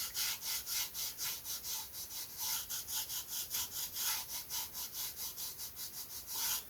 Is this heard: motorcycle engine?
no